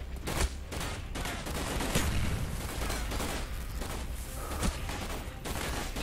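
Rapid gunfire bursts from a Call of Duty: Black Ops campaign mission, with overlapping shots and booming impacts in a dense, continuous barrage close up, a few louder cracks standing out.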